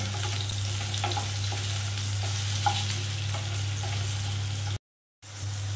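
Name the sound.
elephant foot yam frying in oil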